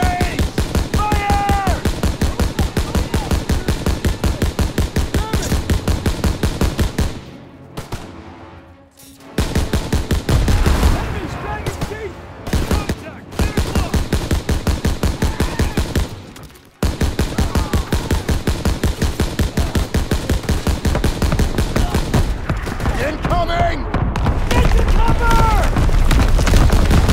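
Relentless World War II rifle and machine-gun fire in Call of Duty WWII, dense rapid bursts and booming shots under shouted orders, broken by two brief lulls before the barrage resumes.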